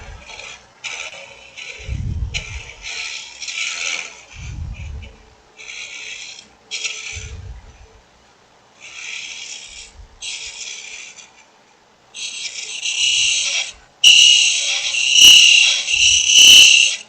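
Carbide tool cutting a long-stem wood goblet on a lathe, repeated bursts of rough hissing scraping separated by short pauses, growing louder and more continuous toward the end, with low thumps between passes.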